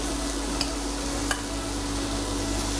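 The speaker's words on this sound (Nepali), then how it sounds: "गाजर अब हामी भुट्छौँ यहाँ यसलाई भुट्छौँ हजुर बिस्तारै गाजर हाल्दै" Carrots frying slowly in a pan give off a steady, even sizzle, with a couple of faint clinks along the way.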